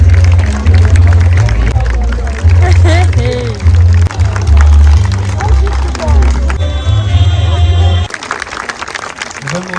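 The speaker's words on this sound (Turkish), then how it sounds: "Coşkulu alkışlar." Enthusiastic applause and cheering from wedding guests at a wedding ceremony, loud and sustained over a low thumping music bed and crowd voices, dropping away near the end.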